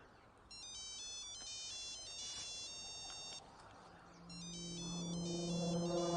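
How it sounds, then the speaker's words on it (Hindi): A phone's electronic ringtone chimes in repeated melodic bursts of beeps over low background noise, and a second lower ringing tune rises and grows louder toward the end. "मालिक का फोन है"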